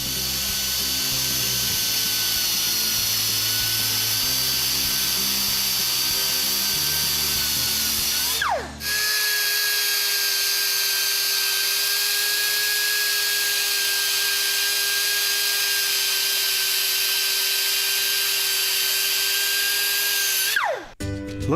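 A power tool cuts a swirl pattern into a brake rotor, giving a steady high whine that runs continuously, stops briefly near the middle, then starts again and holds a level, bright tone to the end.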